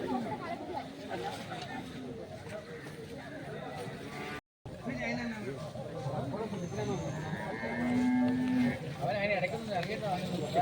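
A bull moos at a village cattle show and agricultural fair in Kerala, its low call rising briefly out of a busy crowd with steady chatter and voices throughout.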